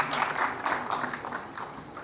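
Audience applause at a breast cancer awareness event at the India International Centre, a steady wash of clapping from a seated crowd lasting about two seconds, moderately loud with no voices standing out.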